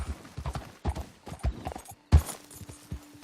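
A horse's hooves clip-clop at a quick, uneven gait in Red Dead Redemption 2, close and clear, with a brief louder stamp near the end.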